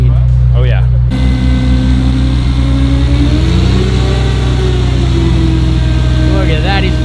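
A truck engine revs hard under full throttle to raise a crane, a loud, sustained mechanical roar with rising and falling pitch, heard close up, with people talking over it at times.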